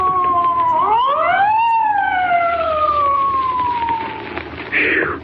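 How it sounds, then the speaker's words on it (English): A police car siren wails nearby, a rising then slowly falling tone that sweeps past and fades, with a faint background hiss like rain and a short burst of noise at the end. "Spike, there's a police car coming up."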